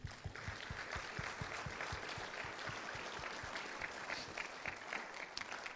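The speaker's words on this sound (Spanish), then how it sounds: "Dale un aplauso, ¿sí?" Church congregation applauding during a sermon, dense steady clapping from many hands, moderately distant and even throughout, with no voices over it.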